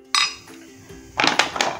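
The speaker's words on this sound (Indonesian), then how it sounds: "Kita campurkan bumbunya dengan daging kambing." Spice paste is mixed with goat meat in a bowl for spiced goat satay: a spoon clinks and scrapes against the dish in a few sharp knocks, then a quick cluster of clatters, close by.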